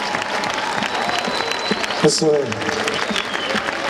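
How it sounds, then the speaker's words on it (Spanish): Big audience applause fills a Dominican orchestra's bachata concert, dense and sustained throughout, with a voice cutting in briefly over the clapping. "un aplauso enorme que se oiga ahí arriba, pero que se oiga bien fuerte"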